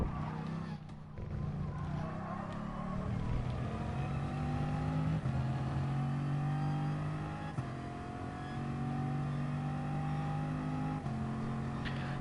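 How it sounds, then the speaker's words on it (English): A race car engine in GT Sport climbs through the gears, its whining note rising and dropping at each upshift several times in a row, loud and steady with no talk over it. "you actually want to be upshifting, you don't want to be redlining it"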